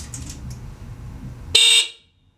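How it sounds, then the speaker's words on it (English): The stock factory horn on a BMW K100 motorcycle gives one short, shrill honk after a low engine rumble, then cuts to silence. "I have a pair of stock factory horns on here. Let me show you what they sound like"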